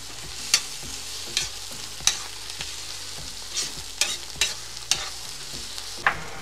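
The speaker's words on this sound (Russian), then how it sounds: "Все жарим на максимальном огне" Food sizzles steadily in a cauldron over a campfire on maximum heat while a utensil scrapes and clanks through it in irregular strokes, close and clear.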